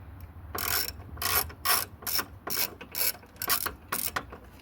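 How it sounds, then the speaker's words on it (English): A Torx T10 ratchet screwdriver drives the screw back into a MAP sensor on a Volvo D5 engine, giving about nine close, sharp ratcheting bursts in a steady back-and-forth rhythm with no voices. "And back in with the Torx T10."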